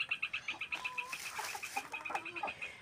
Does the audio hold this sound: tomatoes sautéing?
no